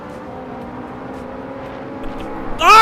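A Ferrari engine drones at steady pitch while racing in Assetto Corsa, a sustained harmonic hum that swells sharply into a louder, higher whine at the very end.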